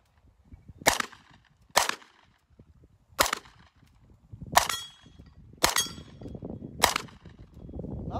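A Norinco Uzi 9mm submachine gun, freshly cerakote-refinished, fires six sharp, loud single shots at irregular intervals of about a second, each followed by a short echo outdoors.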